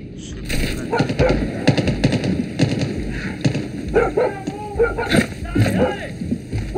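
Dog barking in the video game Far Cry 6, several sharp barks scattered through a busy game mix of voices, gunfire-like bursts and background effects, fairly loud and close.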